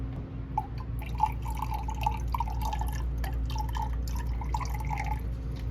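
Water flowing and dripping steadily into the reservoir of a water-to-air intercooler on a Toyota MR2, a continuous trickle over a low hum from a pump or engine, close by with no talking.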